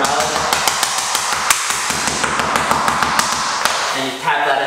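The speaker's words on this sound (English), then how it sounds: "take a hammer or a rubber mallet" Rapid, sharp taps of a hammer or rubber mallet knocking a vinyl floor plank into place in a basement, a steady run of hits with a low hum underneath and a brief voice near the end.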